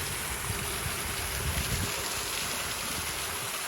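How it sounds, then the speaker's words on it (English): A waterfall running in a park on a chilly spring day in Regina's Lakeview area gives a steady, even rush of falling water that holds at a constant level throughout, with no voices. "And there's the waterfall."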